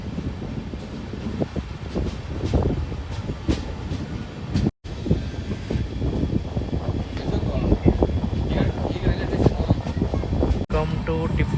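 Local diesel passenger train running on rails between Bengaluru and Tiptur, with a steady rolling rumble and rattling carriage noise throughout, plus a brief dropout midway and voices talking under it.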